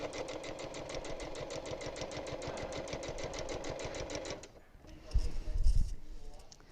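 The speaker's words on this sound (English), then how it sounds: "we will finish sewing this on to the back" Sewing machine stitching quilt binding onto the back of a quilt, a rapid steady run of needle strokes for about four seconds, then stopping, followed by a few soft handling bumps.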